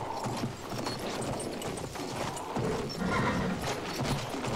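A horse gallops in Battlefield 1 on a war map, its hoofbeats a busy, rhythmic clatter over constant gritty game noise, with a possible whinny mixed in.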